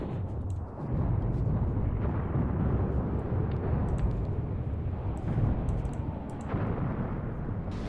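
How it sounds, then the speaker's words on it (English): Mortar fire in the Graviteam Tactics war game, heard as a steady, heavy rumble of distant explosions and bursts that continues throughout, with sharper pops and cracks breaking through now and then. "Tide is turning, especially with all that mortar fire we're getting."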